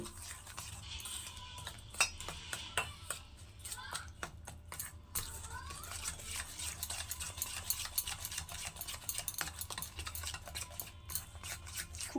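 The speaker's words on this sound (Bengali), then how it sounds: "দুধ দিয়ে এই বিস্কুটের গুঁড়োটাকে মিশিয়ে নেব" Biscuit crumbs being mixed with a little milk in a bowl for a budget biscuit cake, giving steady soft scraping and tapping of a spoon against the bowl throughout, close and moderately loud.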